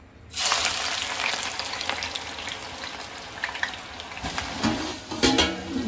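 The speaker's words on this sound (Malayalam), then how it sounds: "ഇതിൽ ഞാൻ ഡോയിൽ ഓയിൽ വെച്ചിട്ടുണ്ട് നമുക്ക് ഉള്ളി വറുത്തെടുക്കാം" Four sliced onions frying in hot oil in a pan while cooking biriyani, a steady loud sizzle that starts abruptly and continues with crackling pops throughout.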